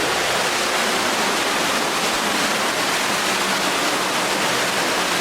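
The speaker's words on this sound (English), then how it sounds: "a woolen mill that was originally powered by a water wheel," Water pours steadily over the water wheel of Melyn Trigwynt, an old woolen mill on the Pembrokeshire pilgrim way in Wales. It makes a loud, continuous rushing roar that stays even throughout, with no voices.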